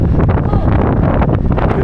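Loud, constant wind roaring and buffeting close against the microphone in Chatswood, with faint voices almost lost underneath.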